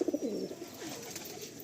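Madrasi pigeons coo in a loft, with low throaty calls up close, loudest at the start and then softer and steady, and no voices.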